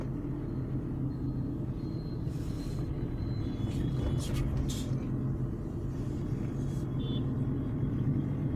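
A car drives along NH58 through Parao in Ajmer, Rajasthan, with a steady, continuous low engine and road rumble throughout.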